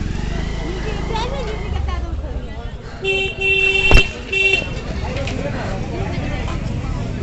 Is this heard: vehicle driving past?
yes